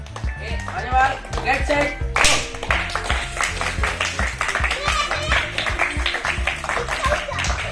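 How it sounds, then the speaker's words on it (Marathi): Schoolchildren at a Zilla Parishad primary school's fun Saturday games clap together in a steady, fast rhythm, loud and close, with lively voices and chatter over the clapping throughout. "चला टाळ्या"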